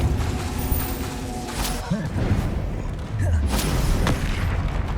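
Repeated Confringo blasting-spell explosions from Hogwarts Legacy, deep booming bursts layered over continuous game noise and sharp pops, with dense overlapping impacts through the scene.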